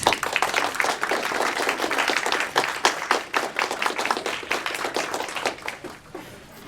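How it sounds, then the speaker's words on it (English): Sustained audience applause from a seated crowd honoring an event's organizing team, dense rapid clapping at steady strength that thins and fades toward the end. "please stand for a round of applause"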